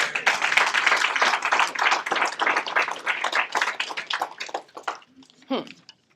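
Church congregation clapping together for Christ, a dense, loud burst of hand claps with scattered shouting voices, thinning out toward the end as a voice cries out.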